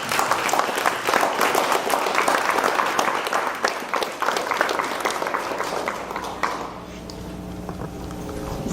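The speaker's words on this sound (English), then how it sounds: "Can we give a round of applause for her?" An audience at a youth peace summit panel on bullying gives a dense, loud round of applause that fades after about seven seconds, leaving a quiet room tone.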